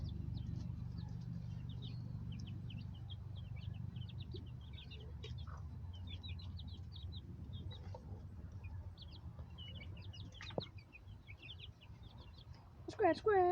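Baby chickens on a farm, with soft high chirps and peeps scattered throughout above a low rumbling background, and a louder cluster of calls near the end.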